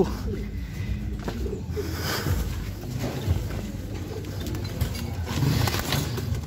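Pigeons cooing at a loft as racing pigeons arrive in light drizzle, soft repeated low coos under a constant outdoor background wash, no voices heard.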